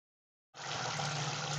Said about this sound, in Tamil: ரசத்துக்கு தேவையான அளவுக்கு நம்ம தண்ணி ஊற்றிக்கலாம்.